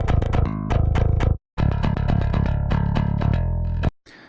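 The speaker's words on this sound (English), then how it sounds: "it sounds like a bass DI" Unprocessed MIDI bass DI track: a dry, direct bass line of clean, separate notes, plucked in quick succession with a brief gap midway, loud and close with no effects.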